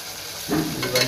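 Ginger garlic paste hits hot oil in a pan while cooking vegetable biryani, starting quiet, then bursting into a loud sizzle midway with stirring scrapes, flaring again near the end.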